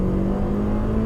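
An Audi TT Mk1 pulls hard in second gear, its engine giving a steady, loud droning hum with a rising tone, heard from inside the car with no talk.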